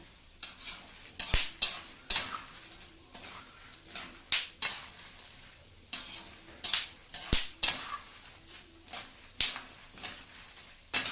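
A ladle stirs peanuts in a pan, making a rapid, irregular run of close rattling scrapes and clicks over a faint background hiss, with no talk.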